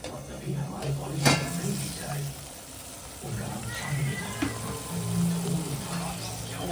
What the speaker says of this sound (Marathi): आता आपण झाकण काढूया